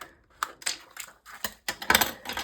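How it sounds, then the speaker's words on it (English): A knife slicing through a piece of paper for a junk journal page, with a series of short, close crisp scratchy cuts in an uneven rhythm and no talking. "let's cut off a fair little piece right here"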